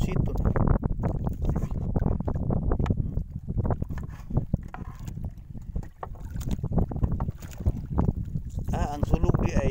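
Strong wind buffeting a boat at sea in Bislig Bay, a steady loud roar and rumble of wind noise against the microphone with water sloshing, continuous throughout.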